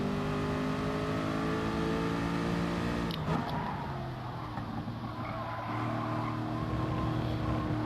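A race car's engine in GT Sport climbs in steady revving pitch, then breaks sharply as the gear changes and rebuilds into a lower, sustained drone; loud, close and continuous with no talk.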